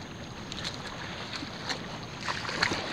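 Small boat running across the sea on an overcast day with light wind and high tide, a steady low wash of water and wind noise throughout, faint and even with slight swells of louder splashing near the end.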